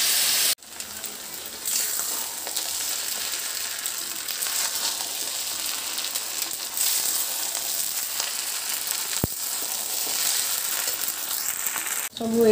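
Steady, close sizzle of frying in a pan while fried rice is being made at home for a Saraswati Puja meal, a continuous hiss running the whole time with a short break near the start and a faint clink.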